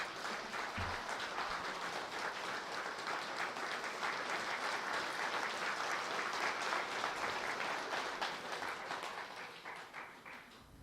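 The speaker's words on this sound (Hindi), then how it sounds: "जोर से बजाओ, जोर से।" Audience at a spiritual discourse claps loudly and steadily, a dense sustained burst of applause that fills the room throughout, with no talk over it.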